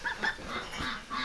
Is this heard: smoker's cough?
no